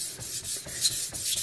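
A knife being sharpened on a Shapton Pro 1000 grit whetstone, with steady back-and-forth rubbing strokes at close range, roughly one stroke every quarter second, no talk.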